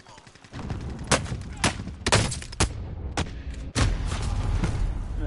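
Gunfire in Call of Duty: Warzone rattles under a steady background of game noise, with several sharp, loud shots spaced irregularly across the span and one heavier crack near the end.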